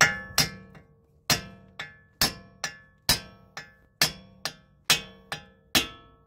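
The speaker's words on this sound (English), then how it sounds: "This is the old one, so I'm just going to tap it a few times" A hammer taps on an old CV axle of a 2012 Toyota Corolla, driver side, to knock it loose: about fourteen sharp metallic strikes, close and loud, mostly in quick pairs, each ringing briefly before the next.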